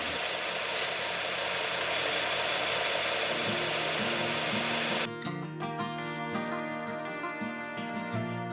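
A power tool working on wood craft pieces, either a multi-tool cutting down bolts or a band sander smoothing splintered ends, running as a continuous loud whine that shifts to a lower, tonal buzzing partway through.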